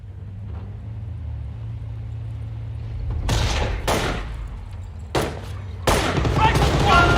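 Gunfire rings out in the World War II strategy game Company of Heroes, with several sharp bursts and volleys cutting through a low rumbling background at irregular intervals.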